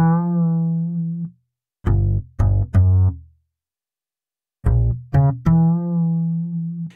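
A synthesized upright bass without automation plays a few sustained notes and short plucked phrases, separated by brief silences, with a clean, steady tone.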